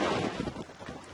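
Gusty wind sweeps ahead of a supercell storm along a cold gust front, buffeting the microphone with loud, close, rumbling bursts that rise and fall quickly, with no talk over it.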